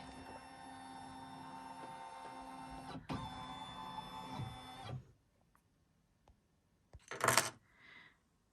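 Large embroidery machine scanning the hoop area over a big, bulky quilt, a steady mechanical hum for about five seconds with a brief interruption, then near quiet with a few faint clicks and a short burst of noise.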